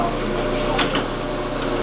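A Clausing lathe running in reverse, a steady close mechanical whir with a faint rhythmic ticking and a brief brighter rustle partway through, fairly even in level.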